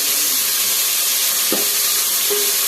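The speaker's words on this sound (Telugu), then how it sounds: "మంచిగా నూనెలో ఎంపుకొని" Mint, curry leaves, onions, green chillies and whole garam masala frying in hot oil for bagara rice, giving a loud, continuous close hiss with a couple of brief stirring knocks.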